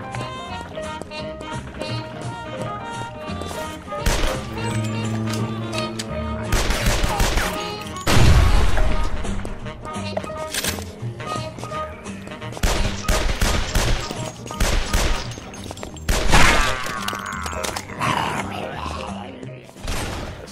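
Rapid bursts of gunfire in the game Guns, Gore & Cannoli, including machine-gun volleys and single shots, over an action soundtrack with occasional effects.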